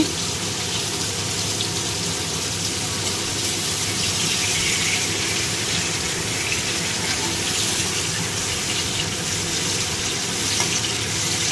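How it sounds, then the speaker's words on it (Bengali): Pointed gourd (potol) fries in a pan in a home kitchen, a steady, continuous hiss and sizzle that runs evenly throughout with no speech. "ওদিকে পটলটা ভাজছি"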